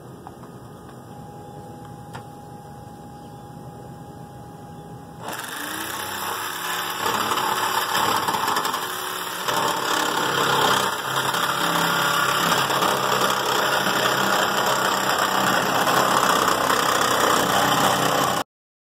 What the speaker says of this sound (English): Got the jigsaw.